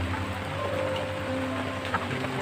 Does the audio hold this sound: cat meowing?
no